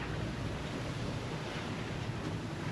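Mixed-up seas from several directions slosh and rush around a sailboat, a steady broadband wash of water and wind noise with no distinct breaks, close and continuous, no voices.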